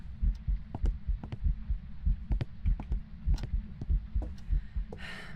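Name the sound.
ghost heartbeat sound in a ghost-hunting video game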